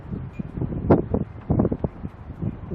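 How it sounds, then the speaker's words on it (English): Outdoor wind buffets a microphone beside a 2007 Hummer H2 during a window regulator replacement, producing irregular low rumbling gusts that swell and fade in uneven bursts, close and rough. "The wind's blowing, so I'm sure that the audio is really painful."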